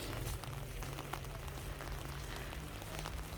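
Steady rain falls outdoors at a Thai festival in northern Sweden, a dense continuous patter of drops on surfaces that stays loud and even throughout, with no voices.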